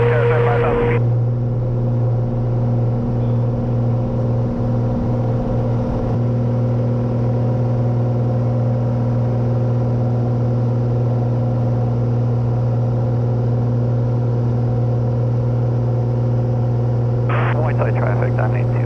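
Cessna 182T single-engine airplane on its takeoff roll, a loud steady engine drone with strong low harmonics running throughout, with brief bursts of cockpit noise near the start and end.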